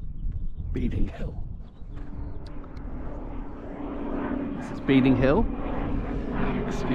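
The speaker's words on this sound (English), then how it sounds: "Excuse the plane going overhead." An airplane engine drones steadily overhead on the South Downs Way, a continuous mid-distance hum beneath someone speaking briefly, with birds chirping faintly.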